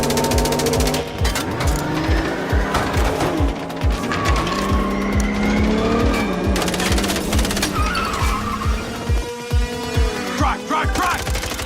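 Car engine revving and roaring through a tense chase in the Mindseye video game, with repeated tire squeals and shifting pitch as it drives hard, accompanied by loud music and action effects.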